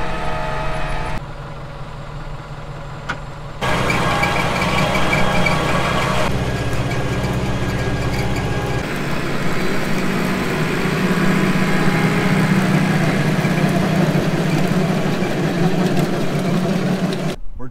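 A tractor engine drones steadily in four-wheel drive, range two and fourth gear, while spreading manure, with the pitch and loudness shifting a few times as it works.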